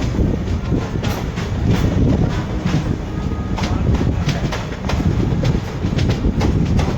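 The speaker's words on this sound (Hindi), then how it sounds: "देखिए सामने से आ रही है गोरखपुर आनंद विहार हमसफ़र एक्सप्रेस, आनंद विहार टर्मिनल की ओर जाती हुई गोरखपुर आनंद विहार हमसफ़र।" Gorakhpur–Anand Vihar Humsafar Express hauled by a WAP5 electric locomotive rolls past close by, a loud sustained rumble with rhythmic clickety-clack of wheels over rail joints and a rush of wind throughout.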